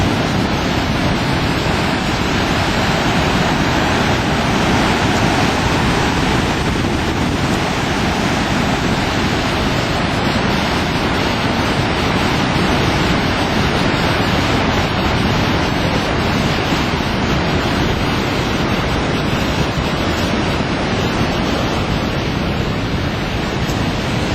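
Steady, dense rushing water from Livermore Falls roars without pause beside a small pool, a broad continuous wash of noise close by with no voices.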